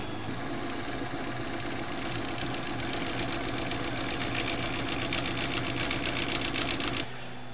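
A HICTOP 3DP-11 3D printer printing a part whirs and buzzes steadily with rapid stepper-motor chatter and fan noise, close and loud, stopping near the end.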